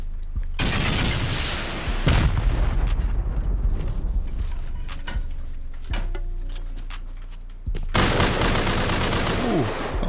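Rockets and gunfire hit the gates of an underwater skyscraper base during a video game raid, loud repeated blasts and rapid bursts close by with brief gaps between volleys.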